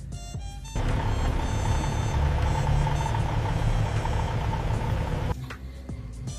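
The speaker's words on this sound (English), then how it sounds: "the car engine is on and the car is still not moving. That means your car is idling." A car engine idling while the car stands still, a steady low rumble that holds at an even level for several seconds before cutting back to quieter background noise.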